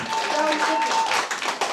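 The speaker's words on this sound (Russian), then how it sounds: "Уже аплодируем" Wedding guests at a café reception applaud in a short burst of steady clapping, close and fairly loud, with voices talking over it.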